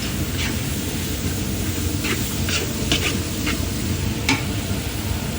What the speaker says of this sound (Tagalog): gigisahin na natin unahin